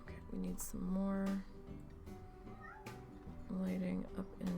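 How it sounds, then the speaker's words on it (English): A cartoonish cat meows in the Planet Zoo management game, several short mewing calls rising over steady background game ambience, with people talking now and then. "What is the meow?"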